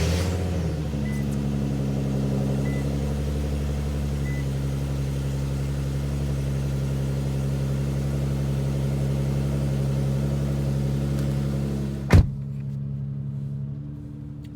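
An Infiniti Q50 engine idles steadily at about 1,000 RPM after a drop-in air filter install, a low even hum with a brief sharp knock near the end before it cuts off.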